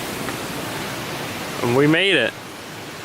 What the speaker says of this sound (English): Not much of a waterfall though. Water run. It's a stream.